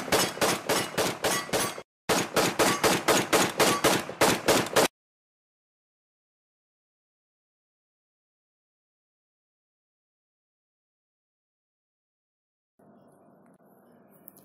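Animated gunfire in a Christian cartoon: a rapid burst of evenly spaced automatic shots, a brief break, then a second burst lasting several seconds. Near silence follows, with only a faint low hum at the end.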